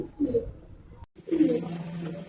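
Giribaz pigeons, silver khaki and army-colored birds, coo up close in two soft, throaty bursts separated by a brief pause.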